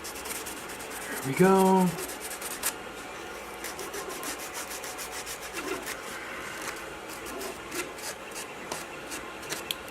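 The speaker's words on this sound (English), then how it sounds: "We'll take a quick sand on this." Plastic-based filler on a 3D-printed part from an Ender 2 printer is sanded by hand in quick, close, rhythmic rubbing strokes. A short voice sounds near the start.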